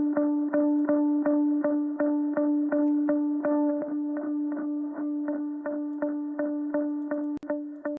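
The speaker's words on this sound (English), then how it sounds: "I also used an Echo Boy preset called Garage Door. This is one of my favorite presets, and it sounded something like this." A guitar loop run through the Echo Boy plugin's Garage Door preset: a sustained tone pulses in a steady, rapid rhythm of about two repeats per second, loud and alone, with a brief click near the end.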